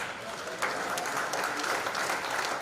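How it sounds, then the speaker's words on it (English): A crowd applauds with steady, dense clapping that swells slightly partway through, filling the room. "give yourselves a round of applause"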